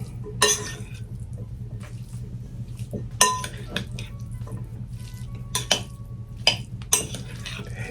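A utensil scrapes and clinks against a casserole dish while steamable broccoli is mixed in, with several sharp knocks spaced over a quiet background hum.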